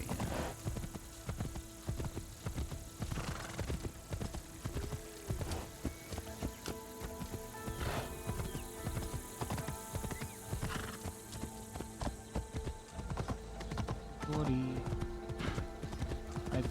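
Rhythmic clip-clop of a horse's hooves plods along continuously in the video game Assassin's Creed Shadows, with a horse neighing now and then and a voice talking over it.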